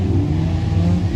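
2.0L hot rod race cars at Northampton Shaleway roar steadily down the back straight, a continuous loud engine drone with deep low rumble and no break.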